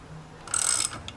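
Ratcheting wrench tightening the propeller onto a Mercury 50 HP outboard motor, a short burst of close mechanical clicks followed by one more click.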